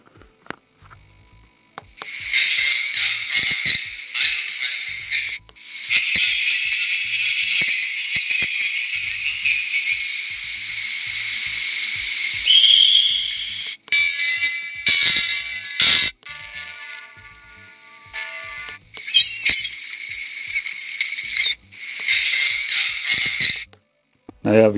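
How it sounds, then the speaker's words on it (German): Electronic buzzer sounding homemade effects for a Märklin H0 model railway, with long steady high-pitched buzzing tones broken by short bursts, clicks and pauses. "Ich mache nochmal das Mikro ein bisschen dichter an den Buzzer."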